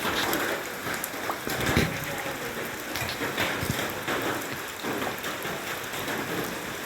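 Steady rain falls outdoors on a rainy day, a dense continuous patter on surfaces with scattered louder drops, close and constant, with no voices.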